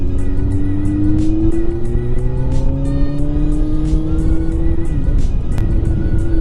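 Kawasaki Z900 motorcycle pulling hard in fourth and fifth gear on a road trip, the engine's rising whine climbing steadily then dropping at a shift, loud and close over wind rush.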